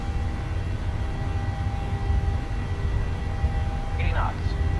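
Boeing 737-700 engines at takeoff thrust in a flight simulator, a steady broadband roar with a low rumble and faint tonal whine, running continuously under intermittent cockpit voices.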